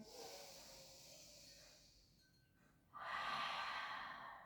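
A slow, audible inhale and exhale during a Pilates stretch, soft airy breathing close to the microphone, ending in a stronger, hissing breath.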